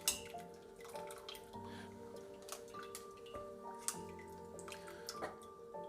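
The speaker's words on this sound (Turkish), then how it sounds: "Şöyle suyunu akıtıyorum tekrar." Water drips and trickles from freshly made mozzarella cheese sitting in a strainer, with small scattered droplet ticks over a steady low kitchen hum, close and fairly quiet.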